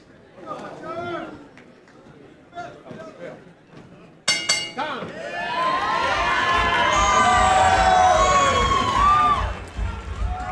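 A big crowd at a boxing fight night roars and cheers, swelling loudly after a sudden burst and holding for several seconds, with commentators talking over the noise before and during.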